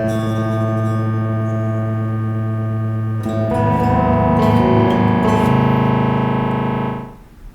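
An electric guitar plays through a Boss DD-3 digital delay pedal with feedback set to 100%, so distorted repeats pile into a dense, sustained wash. A brighter burst swells midway, and the sound cuts off near the end with no talking.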